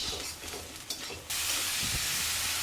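Taro with hilsa and spices fries in a pan with soft stirring and a crackle, then jumps into a loud, steady, close sizzle that fills the rest of the sound.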